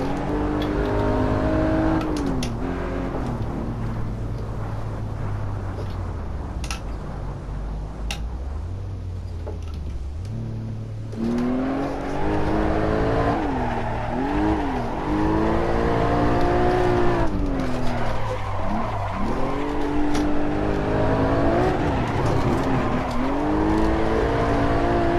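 Porsche Cayman GT4 engine on a test drive, revving up and down through gear shifts, with the pitch climbing, dropping sharply at each change and climbing again, loud and close inside the car, with faint ticking in the cabin.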